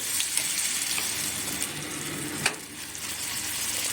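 Hot oil with mustard seeds in a small kadai sizzles steadily as semolina and vegetable batter goes in. The frying hiss is fairly quiet and continuous, with a brief louder crackle midway and no talking.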